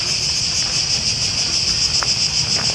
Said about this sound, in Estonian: Ehk siis tsikaadid,